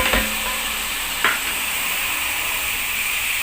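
Steady loud sizzling of chopped green peppers and onions frying in olive oil in a hot pan, with a couple of brief stirring scrapes near the start.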